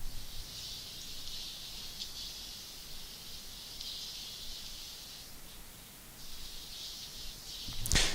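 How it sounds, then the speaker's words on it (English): Ambient snow-like vinyl crackle texture from a sample pack, a faint, steady hiss with a bright band of sizzle and scattered tiny pops, quiet and continuous, and a sharp burst near the end. "just these ambient snow kind of vinyl crackle textures that I got from"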